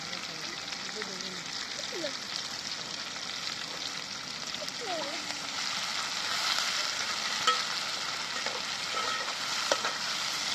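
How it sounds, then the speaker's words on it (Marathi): Tomato and chopped coriander sautéing in a pan with browned onion and garlic for a Konkan val birda, a steady close sizzle with occasional stirring scrapes running throughout. "हे चांगलं परतून द्यायचं टमाटा त्याच्यात थोडीशी कोथमीर टाकायची"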